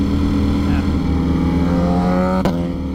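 A Ducati Streetfighter V4S sits idling close by, its engine giving a steady, throbbing low rumble, with a brief sharp click near the end.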